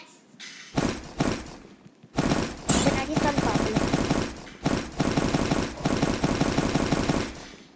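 Gunfire in a 4x4 hunting video game, rapid bursts of loud repeated shots in fast clusters, close and dense, with brief pauses between volleys.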